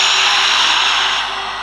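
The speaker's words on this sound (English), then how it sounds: "Through the mouth, exhale it out." One long, forceful breath pushed out through the mouth during a yoga breathing exercise, a loud, close rush of air that holds steady and then eases off toward the end.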